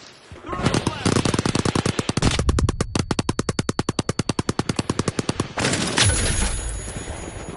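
Rapid automatic gunfire from The Finals arena shooter, with dense bursts giving way to a long run of evenly spaced, loud shots, then more clustered firing and explosive noise toward the end.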